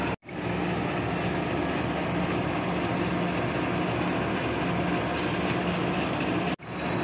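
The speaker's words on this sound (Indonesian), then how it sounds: "ke Madiun dengan menggunakan kereta api Kahuripan." Inside the moving Kahuripan train, a subsidized economy service bound for Madiun, a constant broadband rumble and hiss of wheels and carriage noise fills the whole stretch, steady and fairly loud with no speech.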